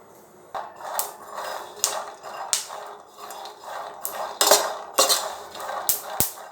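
Peanuts roasting in a pan, with irregular clinks and scrapes of a utensil stirring them against the metal, close and fairly crisp, with a few sharper knocks toward the end.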